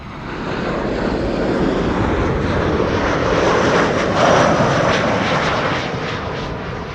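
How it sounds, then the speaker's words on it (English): A KLM Boeing 737-800 arrives at Amsterdam Schiphol from Birmingham, its loud, broad jet roar filling the air steadily, swelling slightly as it passes overhead and then easing off. "KLM flight 1042 arriving from Birmingham, 737-800."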